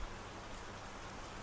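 Heavy rain pours steadily over a farm with a milking parlour, forming a dense, continuous hiss that holds even throughout, with no voices.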